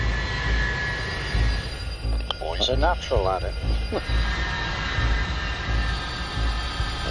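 Jet engines of a 70-ton Avro Vulcan bomber run in a steady, loud, broadband roar, heard from inside the cockpit as the aircraft slows on the ground, with someone speaking briefly over the noise.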